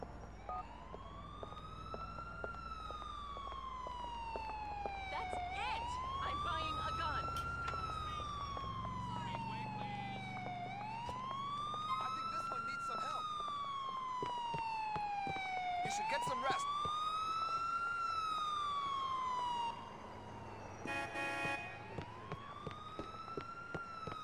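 Ambulance sirens in the video game Grand Theft Auto IV, a loud wailing siren that rises and falls in slow repeated sweeps over steady engine and traffic noise, with a brief burst of other sound near the end.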